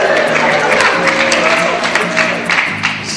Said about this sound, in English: It's not really a strong applause